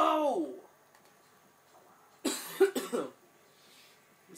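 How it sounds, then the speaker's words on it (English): A man coughs in a quick cluster of three or four harsh bursts, close and loud, after a brief spoken exclamation and a stretch of near silence. "I'm so excited I coughed."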